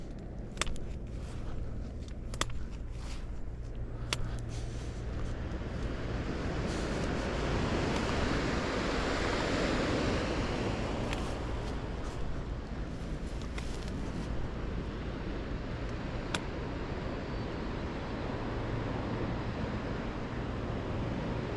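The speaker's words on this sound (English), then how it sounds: "You can hear the waves come in." Waves rolling in on the shore of the Strait below an undercut bluff, a steady broad wash of surf with gusty wind across the microphone, continuous and moderately loud, with no talk.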